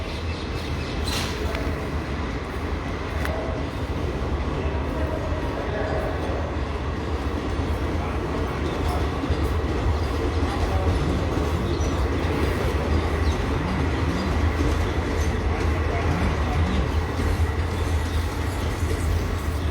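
Train at Gangapur City railway station in India, a steady, loud rumble of rolling railcars with rhythmic wheel clatter and occasional squeal, continuous throughout with no talking.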